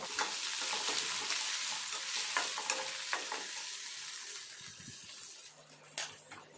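Onion pieces sizzle in hot tempering oil with mustard seeds and curry leaves, a steady bright frying hiss broken by scrapes and clinks of a spoon stirring, close and alone, fading slightly toward the end.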